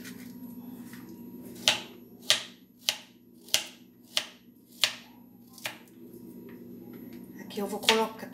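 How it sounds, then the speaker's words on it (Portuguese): A knife chops through garlic cloves on a cutting board, seven sharp, evenly spaced knocks, close and distinct, ending in a brief jumble of clatter. "tô cortando dois dentes de alho"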